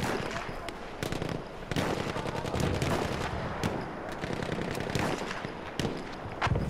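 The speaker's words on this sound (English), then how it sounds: "Enemy machine gun sighted." Rapid bursts of enemy machine gun fire in a first-person shooter, loud crackling volleys with sharp individual shots scattered throughout, sustained over several seconds of chaotic battle noise.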